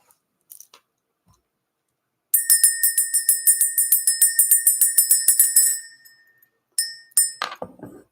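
A small hand bell is shaken for about three seconds, a bright, rapid jingle of some twenty ringing strikes. A few more quick rings follow after a short pause, close and clear with no talking.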